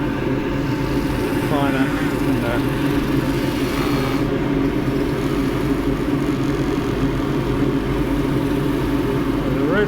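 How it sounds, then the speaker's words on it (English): Rotary sander with 240 grit working a dry jarrah burl bowl spinning on a wood lathe, a steady close whirring drone lasting throughout, with a brief spoken word over it. "I'll just go over it with the rotary sander as well"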